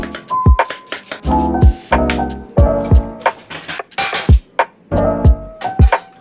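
A knife chops onion, carrot and celery into chunks on a cutting board, sharp close thuds in irregular bursts with brief pauses between runs of cuts.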